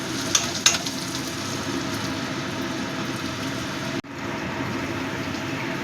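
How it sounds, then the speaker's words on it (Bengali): Potato pieces fry in a covered pan for a prawn malai curry, giving a steady, close sizzle with a few faint clicks early on and a brief dip in the noise partway through. "একটু ঢাকা দিয়ে ভাজবো, তাহলে তাড়াতাড়ি নরম হয়ে যাবে।"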